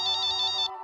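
A telephone ringtone chirps in a rapid warbling trill at steady volume for most of a second, then cuts off.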